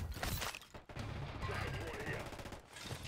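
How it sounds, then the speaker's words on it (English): Rapid automatic gunfire in a Call of Duty match, dense bursts of shots crackling continuously over a few seconds, mixed with players talking over voice chat. "This guy shooting someone's body or something"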